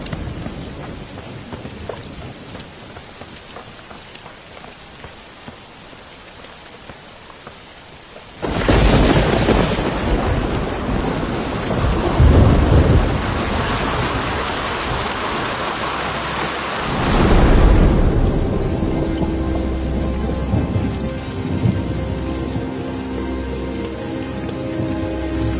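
Steady rain patters quietly before a heavy thunderstorm surges in, with loud rumbling thunder and pouring rain for about ten seconds, then easing to continuous rainfall with a faint tonal sound in the background.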